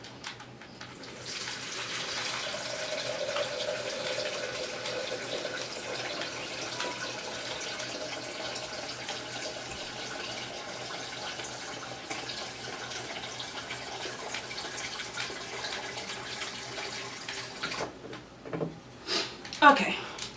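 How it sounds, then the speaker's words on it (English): Tap water running steadily into a jar for about seventeen seconds, a soft continuous rushing stream, followed by a few clinks and knocks of handling. "what I'm going to do is I'm going to fill this up with water"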